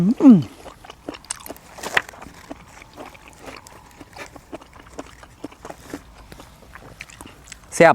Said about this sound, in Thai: ดอกจอกบัวยัง กัดไม่ขาดอีกเลย กรุบกรุบอร่อย